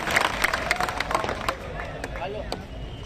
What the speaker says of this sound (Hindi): एक मरतबा तालियां बजाती है